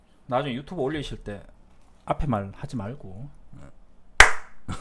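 A single sharp hand clap near the end, loud and close, following someone speaking Korean at the start of a recorded stock-market broadcast session.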